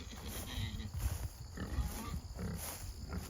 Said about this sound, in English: These are Berkshire pigs. They're hungry.